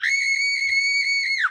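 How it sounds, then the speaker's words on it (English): Halloween sound effect of a woman screaming: one sustained, piercing high-pitched shriek held steadily for over a second before dropping off at the end. "Female scream."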